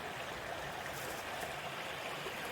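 Wallenpaupack Creek in Delaware State Forest flows in a steady, soft broadband rush, a faint continuous stream of water with no voices over it.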